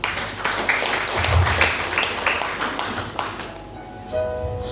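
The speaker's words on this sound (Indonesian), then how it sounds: "Tepuk tangan untuk kita semua." An audience at a sermon gathering claps together. A dense, steady burst of applause fills the room for a few seconds, then thins out and fades.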